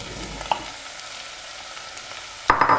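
Chopped rhubarb dropped into a pan of frying onion and garlic: a soft steady sizzle, a small clink, then a louder burst of hissing as the rhubarb hits the hot pan, with no talk.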